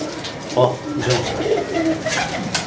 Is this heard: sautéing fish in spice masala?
no